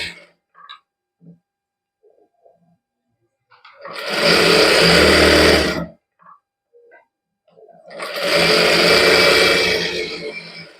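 A sewing machine stitches the side seams of a palazzo in two loud, close bursts of several seconds each, with quiet gaps and small handling clicks between them.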